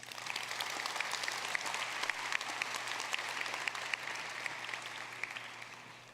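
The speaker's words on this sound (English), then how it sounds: "Please give another round of applause to all these folks who have worked so hard" An audience at Lamar University's College of Engineering commencement in May 2016 gives sustained applause for about six seconds. It is a dense, even wash of many hands with occasional sharp claps standing out, tapering slightly at the end.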